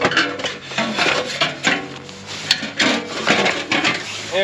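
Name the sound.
exhaust muffler sliding out of Polaris RZR hangers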